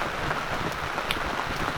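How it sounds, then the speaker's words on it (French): Rain falls steadily on a vegetable garden, a soft continuous hiss with faint scattered droplet taps close by. "Bon, là, il pleut."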